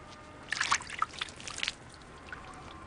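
Water trickles and splashes in short bursts during a baptism, a few close drips and pours clustered together before fading to quiet.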